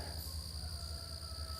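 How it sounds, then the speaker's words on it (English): Insects or tree frogs chirp outdoors in a steady, continuous high trilling chorus over a low background hum, moderately distant, with no one speaking. "I don't know if those are tree frogs or insects"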